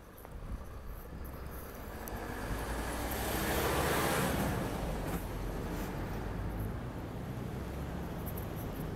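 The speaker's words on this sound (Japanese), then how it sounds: "渡りたいんだけど、止まってくれる車いるのかな。" Light road traffic passes a pedestrian crossing, with a vehicle swelling closer in the middle and then fading, over a faint background hiss and insect chirps.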